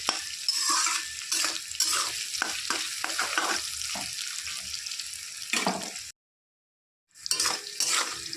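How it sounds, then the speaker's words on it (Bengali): Steady sizzling of potatoes frying in a pan, with scraping stir strokes throughout and a brief silent break near the end. "আলুটা ভাজা হয়ে গেছে এখন এর মধ্যে ওটা দিয়ে দিচ্ছি"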